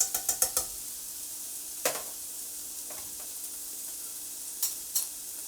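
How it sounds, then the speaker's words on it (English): Two cans of drained, rinsed organic black beans tumble into a sizzling pan, with a quick run of clattering hits and then sparse stirring scrapes over a soft, steady fry, close by and without talk. "the next thing I'm going to put in is some organic black beans, 2 cans that I have already drained and rinsed"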